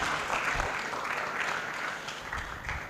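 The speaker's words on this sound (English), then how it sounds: "Can we have a round of applause, please?" An audience at an Afrexim Bank special day event claps in sustained, even applause that swells slightly and then eases over a few seconds, with a faint voice under the clapping.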